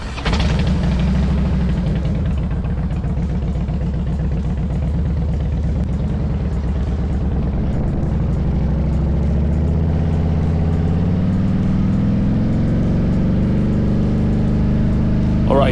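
A 2004 former police Harley-Davidson Road King motorcycle idling, then pulling away: a steady low engine rumble that rises in pitch toward the end as the bike moves off, loud and close.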